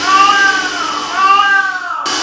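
A house cat lets out two long, drawn-out meows in quick succession, close and loud, with a sliding pitch in each call.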